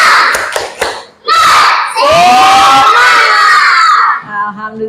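Schoolchildren at a morning school assembly perform the tepuk semangat clapping chant, a loud crowd of young voices shouting in rhythm with bursts of clapping, ending in cheers.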